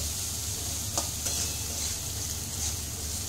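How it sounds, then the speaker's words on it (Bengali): Ginger and cumin powder fry in oil in a pan while the spices are stirred for a banana blossom dish, a steady close sizzle with a couple of faint scraping stirs. "আদাটা, জিরে পাউডারটা, এগুলো একটু ভাজা ভাজা হতে হবে, তবেই খেতে ভালো লাগবে।"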